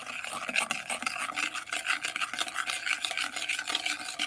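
Spoon stirring bread dough mixture in a bowl makes a steady, rhythmic rasping scrape, repeated quickly and heard up close with no talking.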